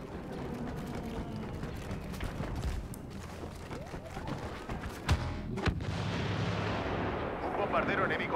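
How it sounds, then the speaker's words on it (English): Heavy bombardment from an enemy bomber strikes an AT-AT walker in a Star Wars Battlefront multiplayer Walker Assault match, with dense rumbling blasts and gunfire throughout and a couple of sharp louder impacts near the end, over a continuous roar. "Un bombardero enemigo ha fijado el blanco en nuestro AT-AT"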